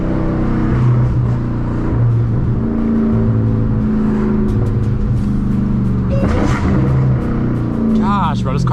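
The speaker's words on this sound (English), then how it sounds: "This car like burbles like pa pa pa pa pa pa pa pa pa pa like that, and it sounds crazy." A 1000hp Dodge Hellcat Redeye gives a steady, loud, low exhaust drone with rising revs near the end, heard from inside the car, with people talking over it.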